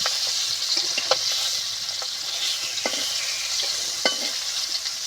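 Marinated fish frying in hot oil in a kadai, a steady loud sizzle with occasional sharp crackles and pops as pieces are flipped and stirred.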